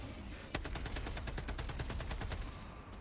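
Rapid automatic gunfire in the video game Helldivers 2, a dense, fast stream of evenly spaced shots at close range, loud and continuous for about two and a half seconds, with no talk.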